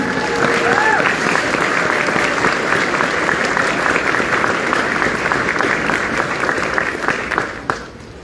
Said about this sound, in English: Please join me in a round of applause to recognize these remarkable group of living donors again.